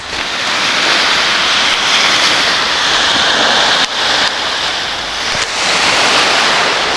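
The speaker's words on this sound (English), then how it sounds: "this is the beach that's about 15 minutes from my home by walking, by foot" Surf at Hanseom Beach in Korea roars loud and continuous, a broad wash of breaking waves mixed with gusty wind buffeting the microphone, with no voices over it.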